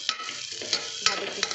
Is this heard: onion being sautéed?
yes